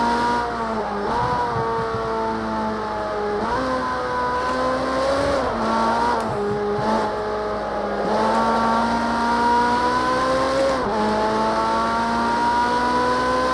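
A Ferrari race car engine in Project CARS 2 rises and drops through repeated gear changes over several seconds, loud and steady throughout, with no talking.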